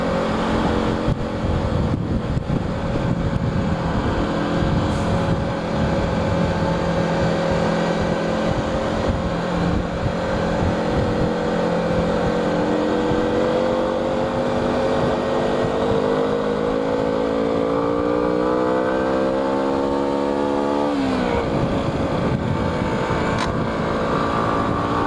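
A big, heavy 125cc motorcycle engine droning steadily while riding up a valley, the pitch rising and falling with gear changes and a sharp shift near the end, loud and close with wind buffeting and no talking.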